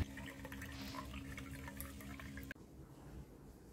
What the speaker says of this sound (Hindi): अभी भी बारिश गिर रहे हैं